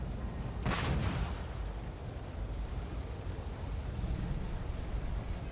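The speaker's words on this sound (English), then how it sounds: "Uh-oh, I threw a grenade." A grenade explodes in the space game Starfield, one sharp blast early on followed by a low rumbling wash of sound that continues to the end.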